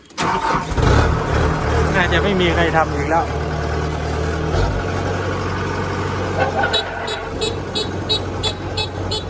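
A combine harvester engine roars loudly and steadily, rising in pitch as it revs, with someone talking over it in Thai and a few warning beeps near the end.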